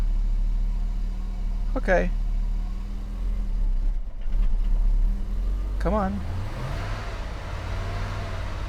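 An old Mercedes W126 engine idles low and steady, then revs up partway through, loud and close, with short spoken remarks over it.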